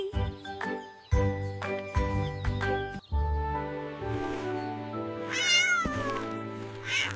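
A cartoon cat named Whiskers meows several times in a row, the calls loud and close, with a small bell jingling among them and a long, rising caterwaul toward the end.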